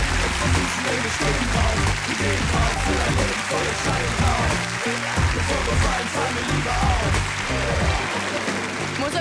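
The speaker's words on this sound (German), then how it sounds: "Großen Applaus für Krizzle und KK" Loud, dense audience applause rolls on without a break for about nine seconds at a televised singing competition stage show, with cheers and voices mixed into the clapping.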